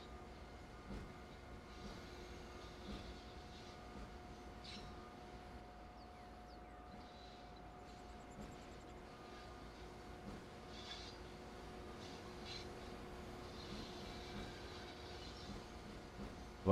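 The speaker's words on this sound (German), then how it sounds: "So, stellen uns hier langsam aus dem Bahnhof raus." Train slowly pulling out of a station in Train Sim World 3, a steady, faint low rumble with a constant motor hum and no voices.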